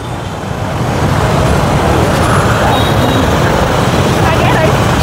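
Busy street traffic in southern Vietnam, crowded with motorbikes and scooters: a loud, constant roar of many engines and tires passing close by, rising to a dense wall of sound after the first second, with a voice speaking over it.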